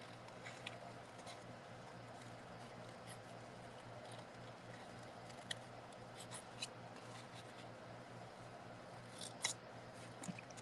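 Scissors snip through stamped cardstock at a paper-crafting table, a quiet steady crinkle and rub with a few sharper close cuts, no talking.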